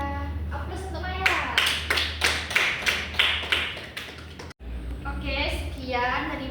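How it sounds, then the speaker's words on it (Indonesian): Classroom applause for a student, with a group clapping in a quick, uneven patter for a few seconds before it stops abruptly and a teacher starts talking. "Aplaus untuk Maya"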